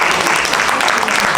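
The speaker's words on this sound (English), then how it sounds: "a bigger clap for Vadodara Council" An audience applauds the Vadodara Council, a dense, loud, continuous roar of clapping hands with no pauses.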